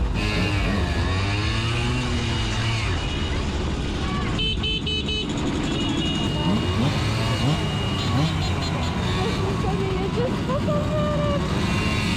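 A Simson S51 moped pulls away and rides off on a rally, its small two-stroke engine droning steadily and rising in pitch, close and loud throughout, with a brief horn-like toot midway and people talking over it.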